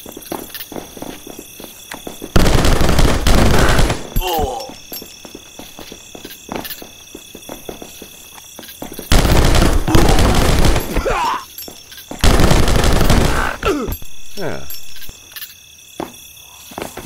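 Bursts of rapid gunfire from the game RocketBirds Hardboiled Chicken come in three loud, sustained volleys separated by quieter stretches of game ambience and small clicks.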